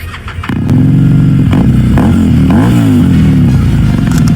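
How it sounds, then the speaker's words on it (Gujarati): A motorcycle engine idles, then revs up and holds a loud, throbbing, rumbling run close by, with slight rises and falls in pitch. "ગાડીની મિત્રો સાઉન્ડ તમે સાંભળો."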